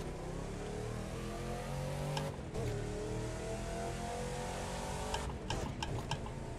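Car engine held in first gear in the racing video game The Crew 2, a steady droning whine with rising pitch sweeps and brief shift-like dips, heard close and continuous.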